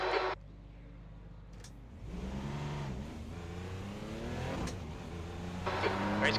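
Race car engine in the iRacing sim during a rolling start behind a pace car, a steady low drone that picks up and rises in pitch after a quieter opening, with a speaking voice briefly over it.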